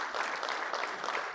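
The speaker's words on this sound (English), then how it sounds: "Let's give these folks some clapping." Keynote audience at a tech conference breaking into brief, light clapping, an even patter of many hands at a fair distance with no voices.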